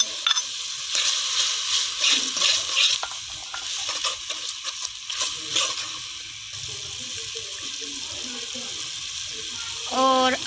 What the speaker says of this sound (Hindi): और अब हम इसके अंदर अदरक और लहसुन का पेस्ट ऐड करेंगे।